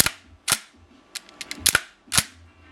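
An MSK Daytona rifle fires several sharp, loud reports spaced irregularly, with a couple of quicker shots close together, each ringing out distinctly over a quiet background.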